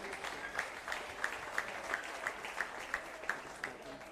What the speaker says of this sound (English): Put a round of applause for the umpires.